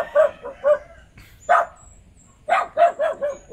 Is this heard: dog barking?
yes